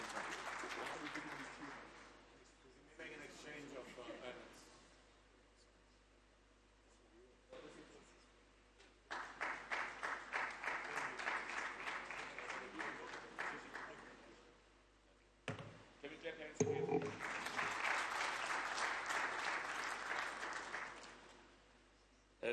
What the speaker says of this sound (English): Can we clap hands for President?